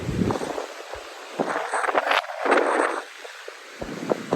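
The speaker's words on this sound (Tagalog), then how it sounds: "Sobrang lakas ng hangin." Very strong storm wind during a storm warning, cold and gusting in steady broadband roars that swell and ease over several seconds, close and loud on the microphone with no talking.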